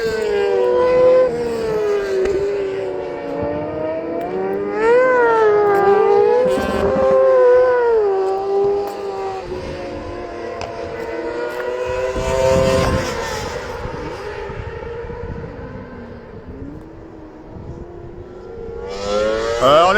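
Racing sidecars at the Alès circuit during a French FSBK race, engines wailing past one after another, rising and falling in pitch, with a loud rush of machines around the middle and more passes near the end.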